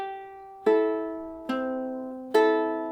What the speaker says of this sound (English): So if I play the pattern straight,